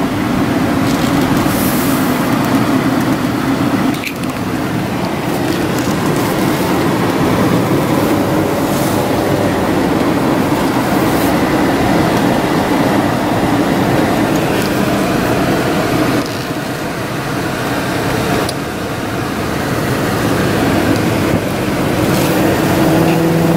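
A 1991 Cadillac Sedan Deville engine running during a test drive, suspected muffler or exhaust fault, a steady close-up drone with a slight sputter and a couple of brief dips in the roar, no talking.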